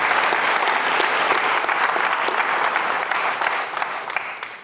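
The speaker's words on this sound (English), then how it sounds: "give up a big round of applause for Jim of open sourcing everything" A keynote conference audience gives a big round of applause, a dense, loud wash of many hands clapping that holds steady and then tapers off toward the end.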